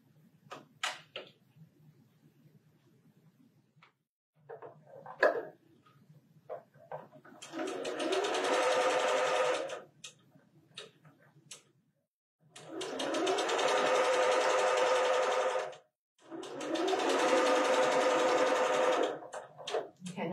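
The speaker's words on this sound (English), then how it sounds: "I'm going to sew these together, and then I'm going to, without cutting my thread, just go right ahead and sew the next one" A sewing machine chain-sews quilt blocks in three long runs of steady mechanical whirring, close by, with short quiet gaps and small handling noises between them.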